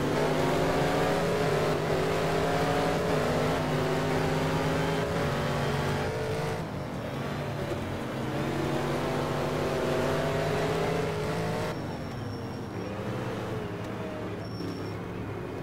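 Three racing cars battle on track in an American Legends Championship race, engines droning and shifting pitch as they rev through corners, a continuous loud roar that swells and fades slightly as they pass.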